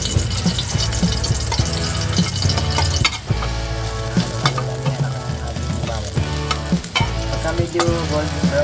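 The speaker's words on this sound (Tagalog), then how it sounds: "Medyo mainit na mantika natin guys. Pwede na natin ilagay yung ating bawang." Garlic fries in hot cooking oil with a dense, loud sizzle that runs continuously, while music plays throughout.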